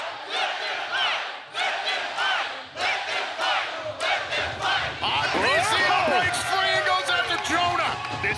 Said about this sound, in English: This crowd gets what they want.